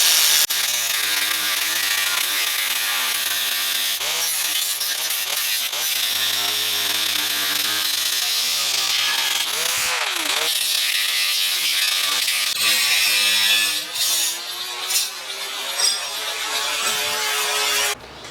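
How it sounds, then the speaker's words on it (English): A power tool cuts into the end of a front drive shaft on a Bronco, a loud, harsh whine and grinding rasp that varies in pitch as it bites and ends with a few lighter, broken bursts. "I need to cut about a ½ an inch off the end here."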